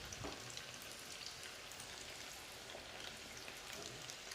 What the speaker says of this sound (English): And you will have to fry it quite a lot.